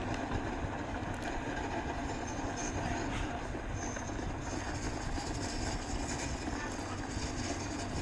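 A passenger train rolls across a multipurpose rail bridge past a standing freight train, producing a steady, dense rumble of wheels and carriages that holds throughout without a break.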